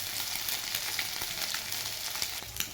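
Food seasoned with only pepper and salt fries in a little oil, a soft, steady sizzle with light crackles and faint scraping, quiet and close, with no voices.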